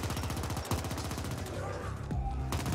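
Gunfire in the video game The Ascent crackles in rapid, regular bursts that shift into heavier scattered shots, loud and close throughout.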